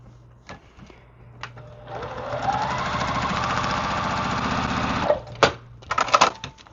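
Quilt block pieces pass through a sewing machine, which runs steadily and close for about three seconds, with clicks and handling sounds before and after.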